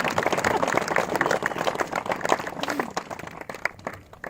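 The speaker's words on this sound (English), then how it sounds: "Yes, you can clap." A wedding audience claps in a dense burst of applause that tapers off over a few seconds, with a voice or two mixed in.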